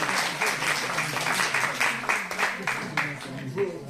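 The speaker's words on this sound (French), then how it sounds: "Vos applaudissements sont éloquents." A lecture audience in Angers claps after Samy Cohen's talk, a dense burst of hand claps with rhythmic peaks that holds steady for a few seconds while a voice speaks over it.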